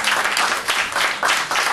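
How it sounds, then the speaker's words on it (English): Applause from an audience at a music-industry summit in New York City, a dense, steady wash of clapping from many hands, loud and close, lasting under two seconds with no talk over it. "Give them a round of applause for being here"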